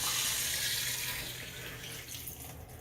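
Water runs steadily from a lower household faucet to drain the line, a continuous hissing splash close by that eases slightly toward the end.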